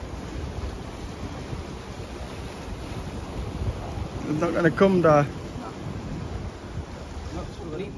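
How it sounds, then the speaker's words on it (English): Rough sea and big swell washing continuously against the shore, mixed with wind rumble on the microphone, while someone speaks briefly partway through. "Not a massive sea, but there's quite a big swell."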